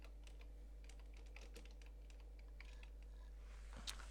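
Rapid clicks of fingers typing on a computer keyboard, close and soft, over a low steady electrical hum, with no voices.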